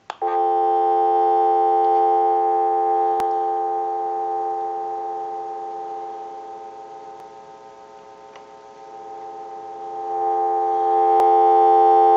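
A steady dial tone from a TA-954 military field telephone hums continuously, dipping softer midway and swelling back up, with a couple of faint clicks.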